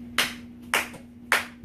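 Gullah Geechee rhythmic hand clapping: three sharp, close claps land at an even, unhurried pace, each ringing briefly before the next, with no voices over them.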